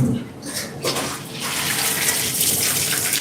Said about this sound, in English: then we're gonna run some cold water to cool it down